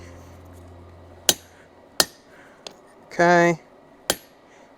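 A hammer strikes a chisel cutting a railroad spike on an anvil face while forging a knife: four sharp, separate metallic blows spaced about a second apart, close and ringing briefly, with one short spoken word between them.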